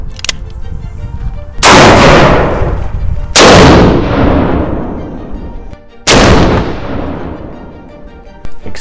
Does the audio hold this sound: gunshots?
yes